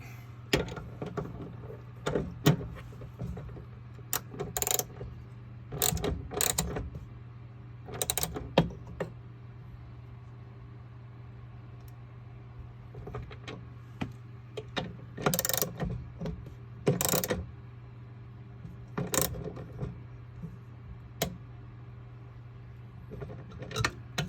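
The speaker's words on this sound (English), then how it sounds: "So we're going to tighten these up." Screws on the connections of a Sol-Ark 12k inverter being tightened, heard as scattered short clicks and ratcheting ticks with pauses between, close and fairly quiet over a steady low hum.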